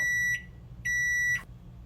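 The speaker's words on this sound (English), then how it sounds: "The timer's fixing to go off" A kitchen oven timer gives two long, steady electronic beeps with a short gap between them, close and clear above a quiet room.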